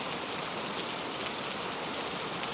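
Steady rain pours in an animated Hindi moral story, an even, close hiss of drops with no break and no voices.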